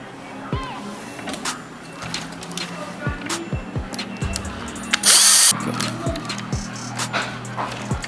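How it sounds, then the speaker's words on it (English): A power drill unscrews a screw on a Canon photocopier fuser unit in one short whirring burst, set among nearby clicks and handling clatter on a workbench. "in order for this one to get off, you have to unscrew the brown wire screw"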